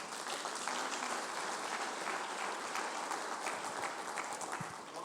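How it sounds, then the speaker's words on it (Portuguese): Sustained audience applause fills a church service after a sermon on God's protection, a steady dense clapping at moderate distance with no talking over it. "As palmas para Ele."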